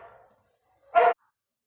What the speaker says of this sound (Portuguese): a minha cachorra tava latindo